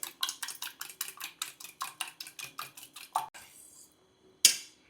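Eggs being beaten in a bowl with a spoon for egg burji: about a dozen quick, even clinks of metal on the dish, close and crisp, then the strokes stop and a single louder clank follows.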